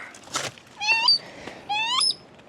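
A cahow seabird calls at its nest with two rising, wailing cries after a short noisy burst, close and fairly loud against quiet surroundings.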